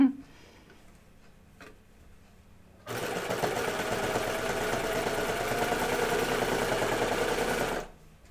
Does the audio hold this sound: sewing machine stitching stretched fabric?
yes